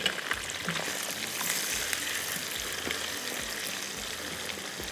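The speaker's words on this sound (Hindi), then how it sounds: "तो मैं ये डाल देती हूँ यहाँ पर ऑयल में। बिस्मिल्लाहिर्रहमानिर्रहीम, ठीक है। ये ज़रा यहाँ पर फ्राई होते रहेंगे।" Vegetables fry in hot oil for a torai and potato sabzi, producing a soft, constant sizzle with light crackles and a few faint knocks in between.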